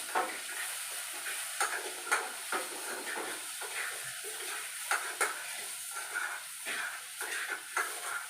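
Potatoes fry and sizzle steadily in a pan while a spatula stirs them in repeated scraping strokes, close and fairly quiet, with no voices.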